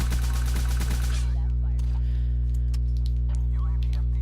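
Rapid automatic gunfire from a weapon in Black Ops 3 bursts loudly for about a second, then stops, leaving a steady hum with scattered faint clicks and effects.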